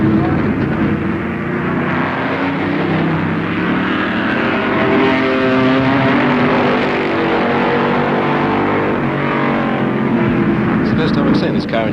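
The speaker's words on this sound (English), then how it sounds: "Make quite an impressive motor racing sort of noise, good sharp crisp 4-cylinder noise." A sharp, crisp four-cylinder racing touring car engine revs and drones at close range at Warwick Farm in 1973, rising and falling in pitch, while a voice talks over it throughout.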